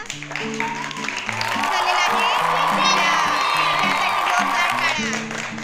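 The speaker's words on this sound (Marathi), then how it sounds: "चला विद्यासाठी एकदा जोरदार टाळ्या" A classroom of schoolgirls claps and cheers together, a loud sustained burst of applause and shouts that swells and then eases, with a teacher's voice over it.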